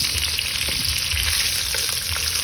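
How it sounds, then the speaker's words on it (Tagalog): Luncheon meat fries in a pan with a steady, loud sizzle and soft crackling that runs the whole time, with occasional stirring scrapes and no voices. "Let's fry the luncheon meat first."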